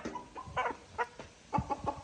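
A four-month-old breeder rooster of about 2.5 kg clucks in short, irregular bursts, fairly close, with a few louder squawky calls near the end and quiet background noise.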